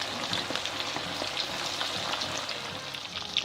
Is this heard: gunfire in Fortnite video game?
no